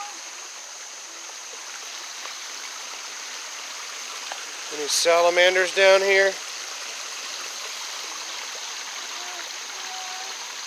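Steady creek water flowing on a wooded trail, a constant soft rushing wash throughout, with a person briefly speaking midway.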